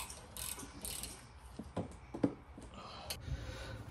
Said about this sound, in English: Reinstall our 14 millimeter bolt to reattach the caliper body onto the caliper bracket. And tighten them down to hand tight or just 17 foot-pounds.